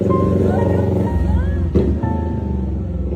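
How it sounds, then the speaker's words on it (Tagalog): A new motorcycle's engine cranks and catches, settling into a loud, steady idle rumble, with people talking and shouting over it. "Try mo na yung bago mong motor."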